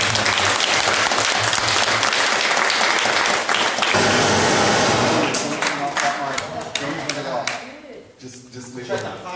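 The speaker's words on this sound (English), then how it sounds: "let's give a round of applause" An audience at a candidates forum breaks into loud applause that holds for several seconds and then tapers off, with a voice speaking over the clapping.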